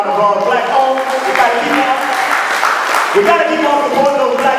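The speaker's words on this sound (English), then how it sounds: "Give those black-owned facilities a round of applause." Audience applause with cheering voices at a convention, a steady dense roar of clapping and shouts that holds loud and unbroken throughout.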